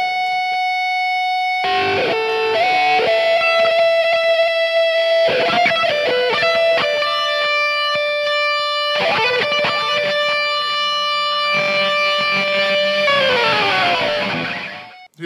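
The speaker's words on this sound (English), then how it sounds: "Now I'm gonna play you the electric guitar, and it sounds like this." An electric guitar played through an amplifier with distortion, strummed chords and sustained notes ringing out in several loud phrases, alone with no talking.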